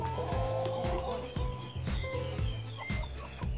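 Rescued hens cluck and chatter close by in a flock, repeated rhythmic calls and short squawks overlapping over a steady droning background.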